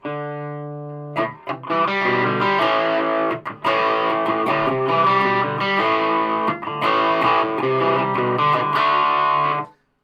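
After a quiet held note, a heavily distorted electric guitar through a Laney HCM30R amp's distortion channel breaks into crunchy chords, loud and sustained with brief pauses, ending abruptly.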